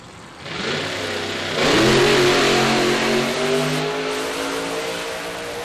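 Nitro funny car blasting down the drag strip at Palmyra Dragway, a loud roaring engine that swells sharply and then sustains a harsh, high-powered howl as it pulls away.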